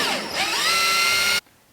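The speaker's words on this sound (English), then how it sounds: "So my drill bit is now full of butyl tape." A power drill whirs loudly for about a second and a half while driving screws through butyl tape on a cheap camper trailer, its pitch rising as it spins up, then it cuts off abruptly.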